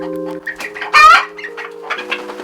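Backyard chickens cluck in a nesting box, close and loud, with one sharp squawking burst in the middle amid steady clucks and a low background hum.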